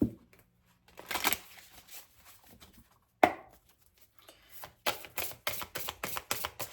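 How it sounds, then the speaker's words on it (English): Tarot or oracle cards shuffled by hand during a new-moon reading: scattered soft riffles, one sharp snap, then a fast run of crisp, rhythmic card flutters close by. "Actually, I'll do easy shuffle so I don't get 100 cards."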